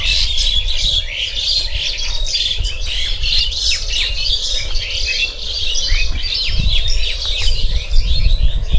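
Many birds chirp and squawk at once in a dense, lively chorus on a farm, loud and close, over a low background rumble with no voices.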